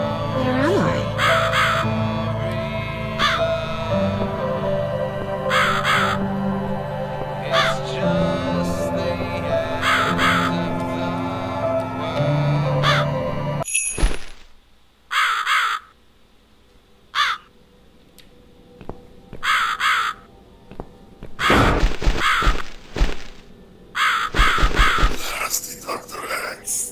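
A crow caws in The Cat Lady video game, harsh calls rising over a dense musical bed, then repeated louder caws in short bursts as a voice speaks between them.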